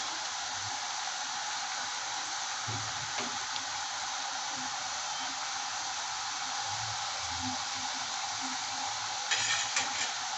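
Murukku, the Karaikudi-style thenkuzhal, frying in hot oil with a continuous soft sizzle and gentle bubbling, quiet and close, with a few faint stirring knocks.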